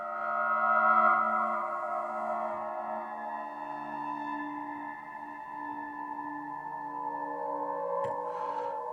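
A sustained, layered synthesizer tone through warbly delay and reverb hums steadily, shimmering and echoing with a slight wavering, played alone at moderate volume.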